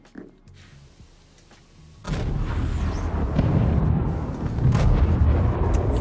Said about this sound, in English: Freaking explosions.